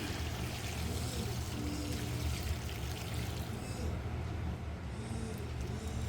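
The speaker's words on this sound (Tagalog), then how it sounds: "Lagyan natin ng sabaw. Tubig na mainit." Hot water poured as broth over pancit canton noodles: a steady, faint rushing pour that continues evenly for several seconds at low level.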